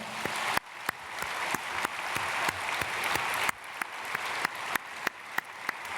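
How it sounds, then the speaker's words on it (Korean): Steady applause from a large church congregation during a Sunday service, dense clapping with a few sharper claps standing out, continuing throughout at moderate volume. "우리 박수로 환영하겠습니다."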